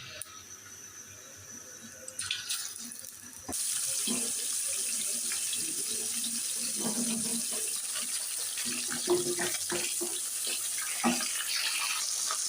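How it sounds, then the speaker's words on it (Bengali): Tilapia fish seasoned with turmeric and salt hits hot oil in a pan, breaking into a sudden, steady sizzle that carries on unbroken at close range with no speech. "তেলটা গরম হয়ে গেছে আমি এবার মাছটি দিয়ে দিচ্ছি"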